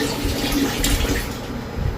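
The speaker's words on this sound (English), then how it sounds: "I take a little bit of my green water and I'll splash just a little bit into my bucket" Green aquarium water splashed into a bucket for growing daphnia indoors, a short close wet splash and trickle lasting about two seconds, with no talking.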